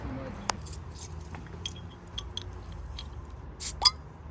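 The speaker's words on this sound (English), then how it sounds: "Keys in hand." Keys jangle and clink in light metallic bursts against a low background hum, growing busier toward the end with a faint voice nearby.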